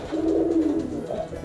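A Brebes-bred racing pigeon coos close to the microphone, one low, soft, throaty rolling coo with a short second note, heard on its own without talk.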